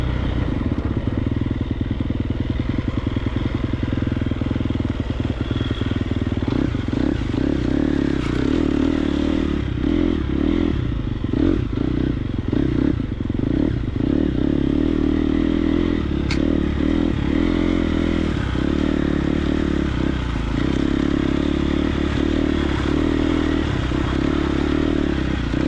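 A Triumph TF250X motocross bike with an aggressive exhaust roars continuously at close range while being ridden, its engine note rising and falling with throttle, plus rattling and scraping from the track.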